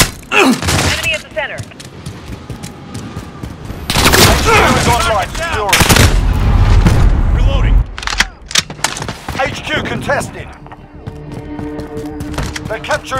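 Call of Duty Modern Warfare gunfire in an HQ multiplayer match at night, with dense bursts of automatic fire and booming shots close by and continuing throughout, while voices shout over the shooting.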